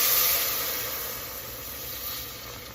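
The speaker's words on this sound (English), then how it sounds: "Then we're going to add our stock. Ready for stock. And it's going in." Stock poured into a hot, thick flour roux for sausage gravy gives a loud, steady close hiss and sizzle that slowly fades over a few seconds.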